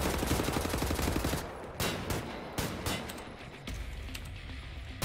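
Shotgun gunfire in Wolfenstein: The New Order, a run of loud, dense repeated blasts at close range, with a few sharp separate shots and constant game noise between them.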